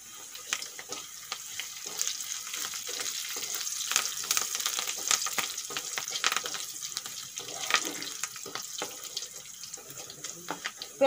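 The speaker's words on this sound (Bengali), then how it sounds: "এখন দিয়ে দেব কটা কারি পাতা" Curry leaves drop into hot oil for a South Indian sambar, giving a steady, close crackling sizzle with sharp spitting pops throughout and no voices.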